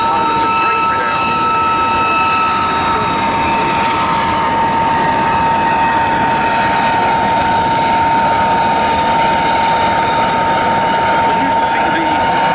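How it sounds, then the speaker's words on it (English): Westland Lynx helicopter in a flying display at Duxford airshow, continuous loud rotor and turbine drone with a steady high whine, sustained throughout as the aircraft turns overhead. "we are able to see a very nice turn of agility nonetheless from this helicopter"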